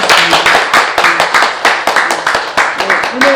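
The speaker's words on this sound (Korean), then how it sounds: "다시 한번 박수 부탁드립니다." Audience clapping at a roundtable event on village care policy: a short burst of close, loud hand claps in an uneven rhythm, with a voice heard faintly underneath.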